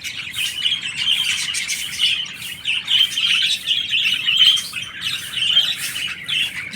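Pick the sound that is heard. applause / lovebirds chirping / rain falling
lovebirds chirping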